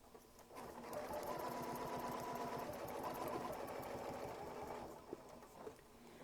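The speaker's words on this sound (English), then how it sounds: "I'll go ahead and sew the other side" Sewing machine stitching a curved quilt block, a close steady whirring run for several seconds that slows and stops, followed by a couple of small clicks.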